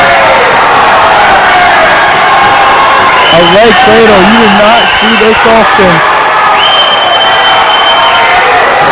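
A packed gym crowd at a high school boys varsity wrestling match roars steadily and loudly throughout, rising in waves beneath an announcer's continuous commentary.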